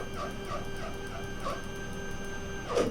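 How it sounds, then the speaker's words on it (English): An X-Carve CNC machine raises its Z axis with a steady, close, tonal stepper-motor whine that pulses in soft repeated surges and ends in a brief louder burst, with no talking. "So I'm going to raise the Z axis back up,"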